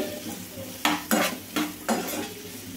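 Chopped onions fry in a pan for an egg masala curry, a steady close sizzle broken by four distinct scraping stirs of a spoon against the metal, with no voices.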